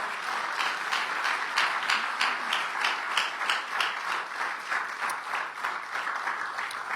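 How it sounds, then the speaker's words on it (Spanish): A church congregation at a Spanish-language service breaks into rhythmic applause, a full, steady room of clapping with a pulsing beat that carries through from start to finish. "Dele un aplauso al Señor"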